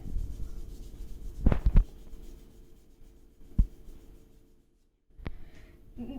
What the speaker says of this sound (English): Now rub the scale against your hair.